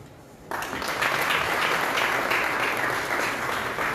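Applause breaks out suddenly from the audience after a speech at the inauguration of an innovation challenge in Goa, following a quiet moment, then holds steady and full without talk.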